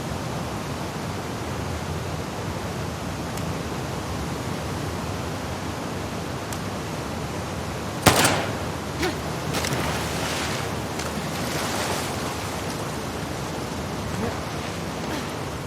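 Flowing water and waves in The Last of Us Part II, a steady broadband wash of rushing water, with a sharp splash or surge burst around the middle followed by a few fainter splashes over the continuing flow.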